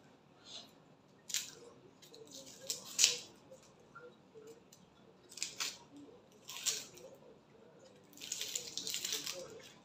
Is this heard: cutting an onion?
yes